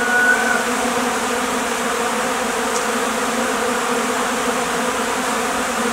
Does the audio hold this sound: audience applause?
no